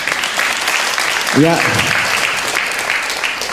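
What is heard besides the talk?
audience applause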